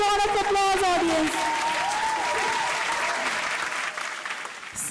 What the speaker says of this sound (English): Please give a huge round of applause, audience.